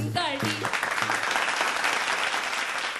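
Audience applause after a Mangalagaur group performance, dense clapping that swells and holds steadily, with a voice speaking over the start.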